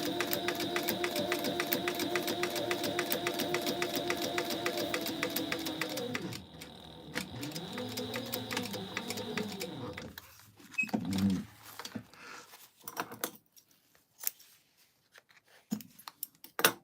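Sewing machine stitching a canvas tote bag, a steady rapid needle hum for about six seconds, a pause, then another shorter run with the motor winding up and down, followed by scattered handling noises.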